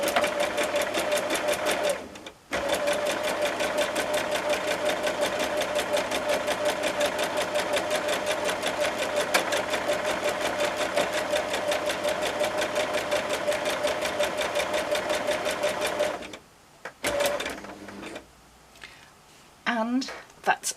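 A sewing machine stitches a buttonhole in a steady, loud, rapid mechanical whir that runs almost without a break, stopping briefly near the start and again near the end, followed by a little fabric handling.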